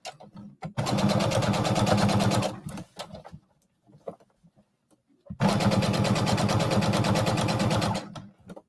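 A sewing machine stitching a lined bralette, two loud, close bursts of rapid stitching separated by a quiet pause with small handling clicks, the second run following a brief reverse.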